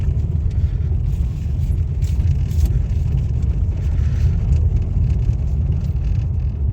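A car driving slowly over a badly potholed rural road, with a loud continuous low rumble of engine and tyres heard from inside the cabin, steady throughout.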